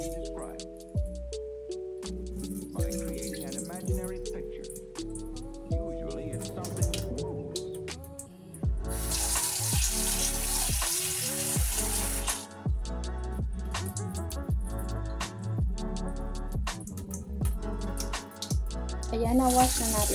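Sago pearls are washed under a running kitchen tap, with water pouring and splashing steadily at close range, stirred and swished by hand for a long stretch while someone talks over it at times.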